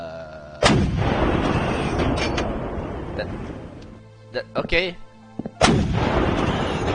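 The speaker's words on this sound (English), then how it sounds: "Just a grape cannon, I guess." In the video game This Strange Realm of Mine, a grape cannon fires twice with heavy booming blasts several seconds apart, each trailing into a rumble. A player's voice briefly speaks between the shots.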